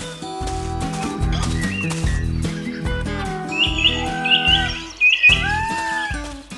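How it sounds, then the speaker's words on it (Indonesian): Colorful weaver birds in an animated farm scene give bright, rapid chirps and warbling calls in quick bursts, set against loud, plucky, rhythmic cartoon music. "Sekelilingnya penuh dengan burung pikok yang warna-warni dan lucu sekali."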